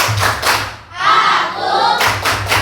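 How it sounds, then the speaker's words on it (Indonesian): A classroom clapping in rhythmic bursts, a brief pause, then a flurry of claps, loud and close like a room full of people clapping together. "Tepuk konsentrasi"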